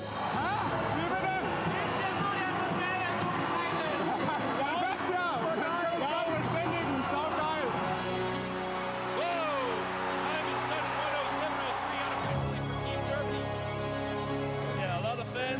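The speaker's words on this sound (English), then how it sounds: "They make a lot of noise, and that's good for our spirit." A large crowd roars and cheers continuously at a STIHL Timbersports rookie championship, loud and dense throughout with overlapping voices and shouts, a busy hubbub that shifts in intensity partway through.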